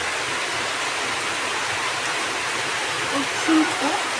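Steady rain falls in a dense, even hiss across the whole stretch while children play football outdoors, with a brief faint voice near the end.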